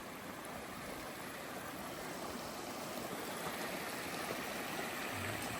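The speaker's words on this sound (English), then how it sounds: "it looks like it's got a nice creek running right here at the end" A creek at the edge of an icy campsite, fed by snow runoff, gives a steady, soft rushing wash of flowing water throughout, fairly faint and unbroken, with no voices.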